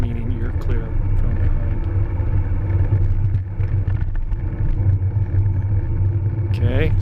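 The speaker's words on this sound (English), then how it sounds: "So here we have a more typical example of a car approaching." A car approaches a cyclist from behind and passes, its engine rumble and tyre noise steady and close against constant road and wind noise.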